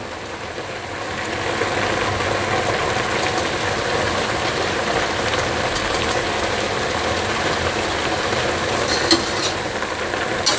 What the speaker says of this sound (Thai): ผัดผักเรานะคะ ผัดเห็ดนะคะผัดเห็ดแล้วก็ใส่แขนง